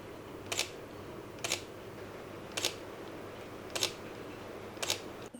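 Five crisp camera shutter clicks fire at steady intervals of about a second while a grasshopper is photographed under flash with a DIY diffuser. Each click is sharp and close over quiet room hiss.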